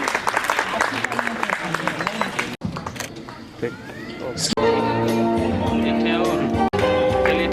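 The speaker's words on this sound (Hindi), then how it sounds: "जोरदार तालियां बजाइए इनके लिए" Applause and crowd clapping in a noisy hall at a freshers' party, mixed with babble and background music, with brief breaks and a steady din toward the end.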